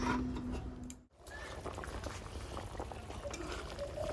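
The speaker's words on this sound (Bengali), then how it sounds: "মাছগুলো দিয়ে একটু ঢাকা দিয়ে দিলাম।" Boal fish curry simmers in a covered pan with a soft, steady bubbling and gurgle, close and fairly faint, after a brief dip near the start.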